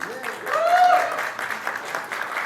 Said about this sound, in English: So a big round of applause everybody.